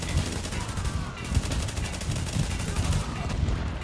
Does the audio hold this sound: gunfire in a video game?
yes